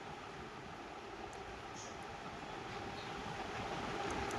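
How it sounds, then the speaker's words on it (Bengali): A vehicle engine sound played through a television speaker, a steady broadband rumbling roar that holds at an even level and swells slightly toward the end, heard alone without talk. "টেনে দিচ্ছে দেখি গাড়ির আওয়াজ শোনাবে"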